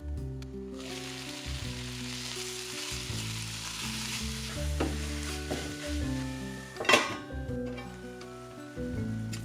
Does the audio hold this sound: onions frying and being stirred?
yes